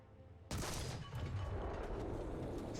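A single heavy blast from the 90mm gun of an AMX-30 tank in a video game, a sudden loud boom followed by a long rumbling tail of sustained noise.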